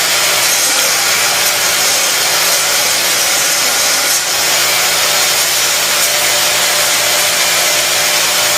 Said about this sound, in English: Then you have to grind off the screw system with a die grinder